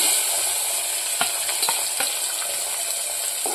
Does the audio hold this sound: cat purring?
no